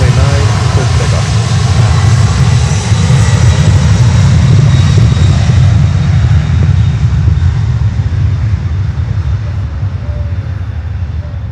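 A heavy aircraft accelerating down runway 9 on takeoff, a loud, dense engine roar with turbulent rumble that stays powerful and then slowly fades as it pulls away.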